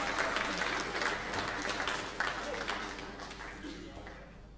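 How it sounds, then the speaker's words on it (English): Audience applause at a boxing gym as a belt winner is honored, a steady burst of clapping that slowly fades, with someone speaking over it. "give Tan a big round of applause as well"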